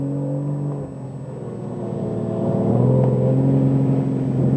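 The engine of a 1992 Jeep Grand Cherokee ZJ accelerates, a close, rising engine drone that dips briefly and then swells louder and higher in pitch.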